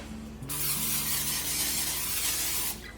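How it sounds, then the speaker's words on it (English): A steady aerosol spray of cooking spray hisses for about two seconds into a 9-inch baking pan, loud and close, beginning and ending abruptly, with a low mechanical hum underneath. "I'm gonna spray it with a little cooking spray"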